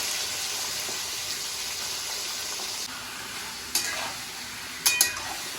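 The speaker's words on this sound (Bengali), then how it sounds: "তারপরে আমি এটা একটু অল্প তেলে ভেজে দেবো।" Chicken gizzards frying in a little oil in a pan give a steady close hiss, with a couple of sharp utensil knocks toward the end.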